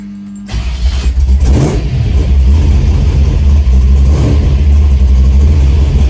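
A cold 1971 El Camino SS engine idles steadily and loudly up close, catching with a brief rev before settling into a rough, continuous rumble.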